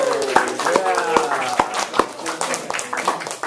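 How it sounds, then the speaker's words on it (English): A UCLA class audience claps in a quick, steady burst of applause for group leaders, with voices mixed in among the hand claps. "Can we give another round of applause to our group leaders?"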